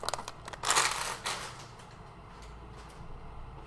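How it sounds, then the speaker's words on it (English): Dry pasta poured into a pot on a home stove during quick dinner cooking, a short rattling rush of pieces landing, loudest in the first second and then trailing off into quiet kitchen background. "And I'm going to pour in the pasta."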